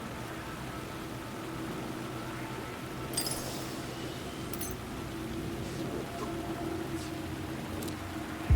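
Rain falling in Alan Wake 2, a soft continuous patter over a dark city scene, with a few faint clinks and splashes scattered through the steady hiss.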